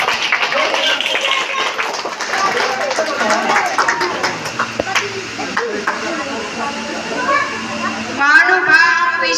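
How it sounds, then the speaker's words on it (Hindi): School audience at a Teacher's Day celebration applauding an eighth-grade student, a burst of loud mixed clapping and shuffling with children's voices, thinning out toward the end. "एक बार जोरदार तालियां दिलनशी के लिए"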